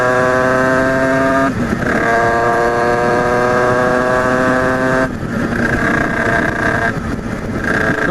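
A Derbi DRD motorcycle with a 70cc Italkit engine runs close by, a loud, buzzy two-stroke drone that holds a steady idle, then rises in pitch with throttle blips and settles again, with wind rumble on the microphone.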